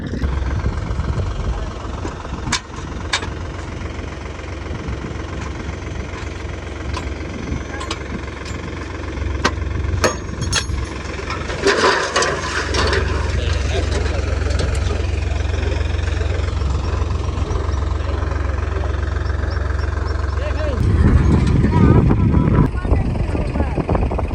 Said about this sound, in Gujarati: ટ્રેક્ટર લગાડી રહ્યો છે